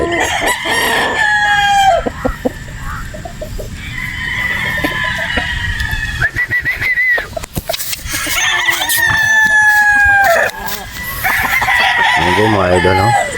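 A broad stag gamecock crows repeatedly at a Batangas game farm, loud and close, with other roosters crowing and fowl clucking around it and no talking.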